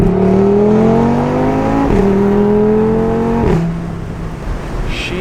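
A tuned Audi RS3 engine revs hard, its pitch climbing, then blipping sharply through two quick downshifts before the engine note drops away; loud and close.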